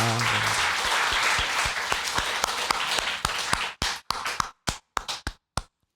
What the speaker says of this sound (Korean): 우리 함께 영광의 박수 올려드리겠습니다